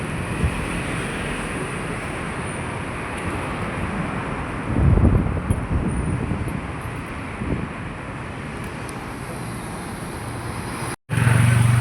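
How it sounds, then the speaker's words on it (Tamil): Heavy road traffic roars along a busy Malaysian street, a steady broadband wash of engines and passing vehicles with wind buffeting the microphone, louder surges midway and a brief dropout near the end. "நம்ம ரோட்டை கிராஸ் பண்ண போகிறோம். பயங்கர டிராஃபிக்."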